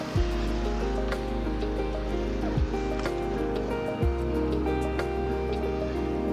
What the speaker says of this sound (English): I'm gonna go ahead and water the plants down now